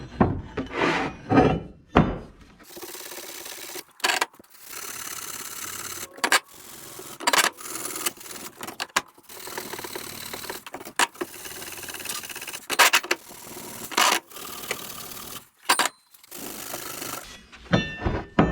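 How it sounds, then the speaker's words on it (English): A Scotch-Brite pad scrubs the metal edges of a welded differential cover, with repeated close scraping strokes in irregular bursts separated by short pauses, and no talking. "I'm going to go ahead and take this Scotch-Brite, and I'm going to go ahead and clean up all the edges here"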